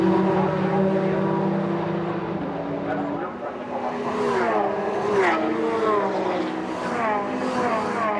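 Porsche Carrera Cup race cars at the Nürburgring pass with sustained loud engine drone, rising and falling as several cars go by in quick succession, with commentary talk over the top.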